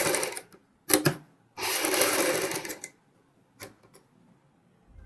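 A sewing machine stitches piping onto a sleeve in short bursts: a brief run, a longer steady whir of about a second, then a few quick clicks before stopping.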